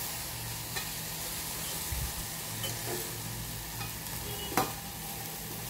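Rice being added to hot ghee in a pan and stirred to cook baby food, with a steady soft sizzle under occasional scraping and clinks of the spoon against the pan.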